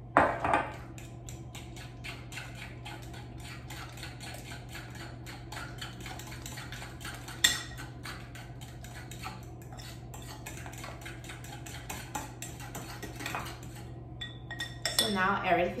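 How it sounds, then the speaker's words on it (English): A fork whisks banana and egg pancake batter in a bowl, giving a rapid, continuous clatter of metal tapping against the dish that runs steadily throughout, close up, with a low hum beneath. "let's mix everything with a fork until it's fully blended"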